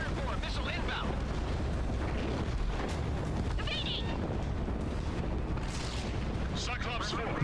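Aircraft cannon fire and explosions in the jet combat game Ace Combat 7, a loud, steady roar of rapid gunfire and booming blasts, with a voice talking over the din.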